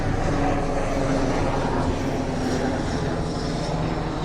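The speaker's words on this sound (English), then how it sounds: "Army helicopter." An army helicopter passes overhead as a loud, steady, broadband engine and rotor roar that fills the whole clip with no gaps, with no talking.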